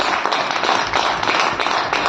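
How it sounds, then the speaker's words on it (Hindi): An audience at a business meeting in a Kurukshetra heritage hotel claps loudly and evenly, a thick, sustained burst of many hands with no voices breaking through. "इनके लिए बहुत जोर से तालियां बजा दें।"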